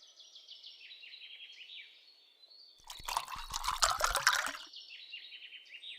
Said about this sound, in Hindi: बेटी कमाली कुएं से पानी निकाल रही थी